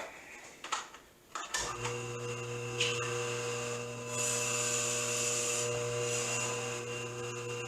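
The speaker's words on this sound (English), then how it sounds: "I've got my meat slicer set on 4. So let's slice some up" Electric meat slicer cutting beef for jerky, a few rubbing clunks followed by the motor's steady close hum with faint slicing scrapes over it, no talking.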